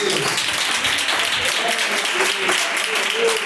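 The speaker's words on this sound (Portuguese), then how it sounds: "Palmas para o Filho de Deus." Church congregation clapping in praise during a service, a dense continuous patter of applause with voices mixed in throughout.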